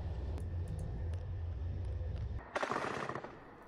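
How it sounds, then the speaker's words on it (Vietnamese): Gunfire near a hospital in Gaza during Israeli military operations, heard as a low rumbling background with a few faint cracks, then a sharp burst of noisy bursts near the end. "âm thanh của tiếng súng cũng có thể được nghe thấy"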